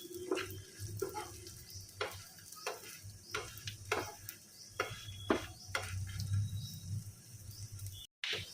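Mustard seeds and cumin spluttering in hot oil while tempering for pressure-cooker pongal, with repeated sharp pops scattered over a steady low sizzle, close and moderately loud, no talking.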